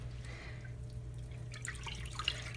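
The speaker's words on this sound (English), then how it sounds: "And just finger poking it." A finger pokes a soaking wool sweater submerged in water, giving faint, sparse drips and small splashes that grow slightly busier toward the end over a low steady hum.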